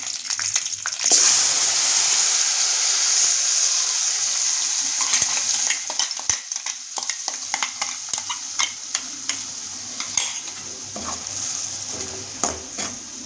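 Ground red chilli chutney paste poured into hot oil with curry leaves, a loud burst of sizzling that settles into a steady hiss with scattered pops and spoon clinks, close up.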